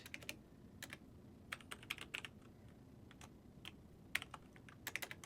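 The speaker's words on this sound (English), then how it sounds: "I'm having a hard time typing on this keyboard right now" Keys clatter on a computer keyboard during a Python coding session, tapping quietly and irregularly in short clustered bursts with brief pauses, close to the microphone over faint room hiss.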